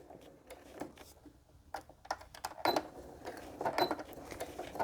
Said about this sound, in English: Now I am going to do a back stitch to start.